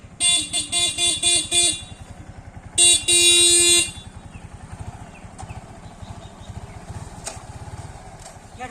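A motorcycle engine idles with a steady low putter while a horn blares in a rapid series of short toots and then one longer blast, followed by the engine running on alone.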